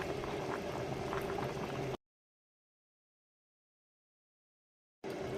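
A pot of fish curry with cauliflower simmers with a steady bubbling boil, close and even, cut off by a long silent gap before resuming briefly.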